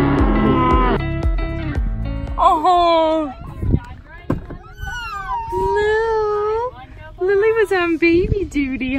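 Cattle on a Wyoming cattle drive, calves and cows left in a pasture, call out in a series of loud, drawn-out moos and bawls of varying pitch, overlapping one another, with people talking nearby.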